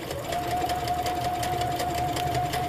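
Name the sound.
sewing machine stitching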